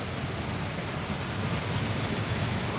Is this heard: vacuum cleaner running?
no